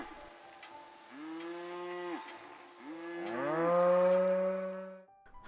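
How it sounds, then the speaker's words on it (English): Open range cattle moo several times, long low drawn-out calls overlapping one another, fairly close with no talking. "open range cattle."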